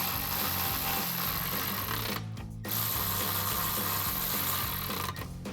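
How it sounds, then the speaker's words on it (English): Ratchet clicking as a running board bracket screw is tightened with a 5mm Allen key on a Toyota Tacoma, a steady rapid mechanical whir with a brief pause midway, close and moderately loud. "Now you can tighten this down using your 5mm Allen."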